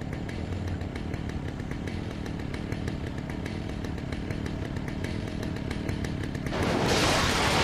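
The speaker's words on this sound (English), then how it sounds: "No, that's a chainsaw." A chainsaw in the Alan Wake video game runs loud and steady, with a constant buzzing drone that swells to a harsher roar near the end.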